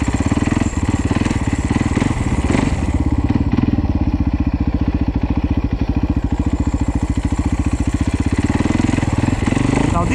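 A 450cc dirt bike rides through snow, its single-cylinder engine thumping in a steady, rapid pulse throughout, loud and close, with small shifts in revs as it moves along.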